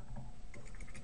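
Computer keyboard keys clatter in quick, uneven bursts as someone types code, close and steady through the whole stretch with no voice.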